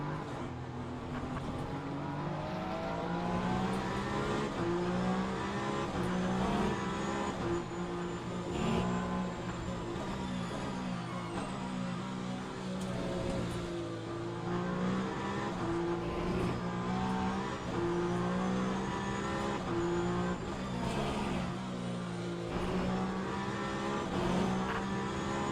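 Race cars, a Ferrari and a Peugeot LMH hypercar, roar continuously in a racing video game, engines droning steadily with shifting pitch as they run close together at speed for the whole stretch.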